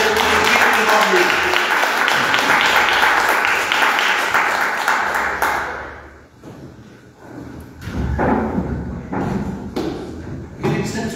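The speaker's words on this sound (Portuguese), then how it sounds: "aplauda o Senhor" Church congregation applauding the Lord, a dense wash of clapping that fades midway, then resumes in scattered bursts with thumps.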